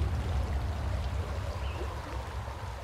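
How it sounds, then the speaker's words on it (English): A raging mountain creek runs in a steady, full rush of water, heard fairly close and continuous with no voices. "Crossing these raging creeks this time of year can be super dangerous."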